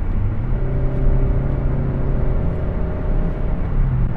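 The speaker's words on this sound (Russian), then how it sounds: "Но рев, прям просто стоит рев от двигателя." Suzuki SX4 engine roaring inside the cabin with little sound insulation, a loud, steady droning hum with a constant rumble underneath, no speech.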